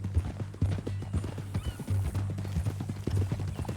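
Horse hooves clip-clop in a steady, close walking rhythm in the video game Red Dead Redemption II, with a brief whinny and no talk over it.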